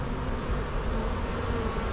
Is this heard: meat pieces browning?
no